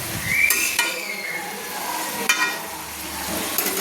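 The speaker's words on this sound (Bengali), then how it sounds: "বাঁধাকপি সব কিছুর সঙ্গে আমি একটু কষিয়ে নিচ্ছি" Cabbage with sliced tomato and spices frying in a pan, a steady sizzle broken by a few sharp scrapes and taps of a spatula against the pan, close and moderately loud, without speech.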